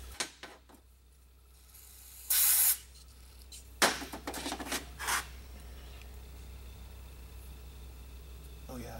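Compressed air blown through the oil holes of a camshaft timing part from a 2015 Passat, a sharp hissing blast followed by several shorter bursts and clattering handling noises in a quiet workshop.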